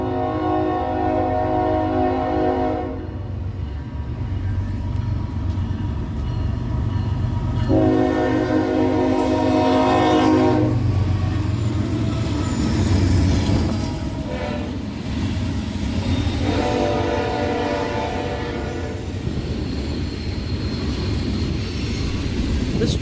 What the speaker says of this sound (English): This train was led by your standard Norfolk Southern power, being a ES44AC and a C6M.